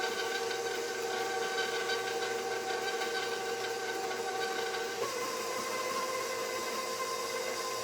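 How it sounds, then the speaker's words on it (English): An electric stand mixer fitted with a flour guard runs for shortbread dough, giving a steady, fairly quiet mechanical hum with a constant whirring drone and a slight pitch shift partway through. "You don't want your mixer on too high because the flour is going to blow up in your face even with the flour guard on there"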